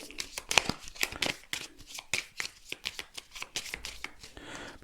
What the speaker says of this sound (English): Need to shuffle that deck now.